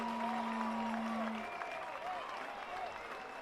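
A sellout baseball crowd at Welland Stadium claps and cheers as it rises to its feet, a dense, steady wash of applause heard from within the stands, with a brief tone and faint voices mixed in.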